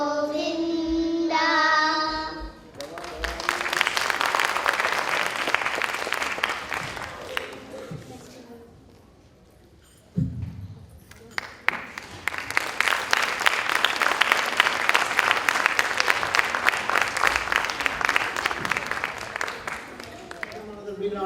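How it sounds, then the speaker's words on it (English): Audience applause at a devotional youth performance event in Orlando, a dense, sustained wash of many hands clapping that swells, dips briefly, then returns loud and full, with some voices mixed in. "Another big round of applause."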